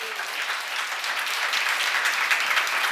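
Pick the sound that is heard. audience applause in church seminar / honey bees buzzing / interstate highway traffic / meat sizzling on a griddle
audience applause in church seminar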